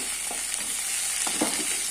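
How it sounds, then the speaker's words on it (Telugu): Mint and coriander leaves with turmeric fry in a pan, giving a soft steady sizzle with a few faint scraping stirs. "మనం మొత్తం ఆకునైతే వేయించుకుందాం"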